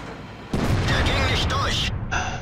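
A tank cannon fires in World of Tanks as a Maus heavy tank shoots premium rounds at an enemy tier 10 heavy, a sudden loud boom followed by sustained rumbling battle noise with a commentator talking over it.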